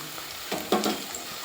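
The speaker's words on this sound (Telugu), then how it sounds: "మనం వేయించినటువంటి ఉల్లిగడ్డ వేయించినటువంటి ఆయిల్లో మళ్ళీ ఒక పెద్ద సైజు ఉల్లిగడ్డను" Onion frying in oil for a village-style fish curry, a soft steady sizzle with a few brief louder stirring bursts, close and with no talk.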